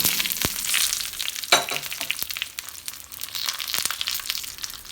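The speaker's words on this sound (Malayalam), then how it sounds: "ഒരു പാൻ വെച്ച് എണ്ണ ഒഴിച്ച് ചൂടായി വരുമ്പോൾ 15 ഉണക്കമുളക്" Fifteen dried red chillies frying in hot oil in a pan, a steady close crackling sizzle with sharp pops and scattered bursts throughout, no voices.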